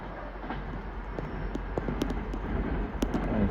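Class 390 train 390-020 running through Crewe on the West Coast Main Line, a broad steady rumble with rhythmic wheel clatter, fairly near and rising slightly toward the end.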